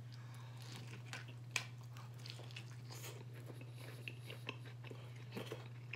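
Homemade Mexican pizza is chewed close to the mic, with soft crunching bites and a sharp crisp snap over a quiet, steady hum, and no talk.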